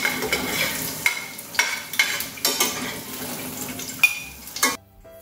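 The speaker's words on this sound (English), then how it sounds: "We're going to just lightly brown the garlic." Garlic browning in a hot pan sizzles up close while a utensil scrapes and taps the pan in several sharp strokes about once a second, then the sound cuts off abruptly.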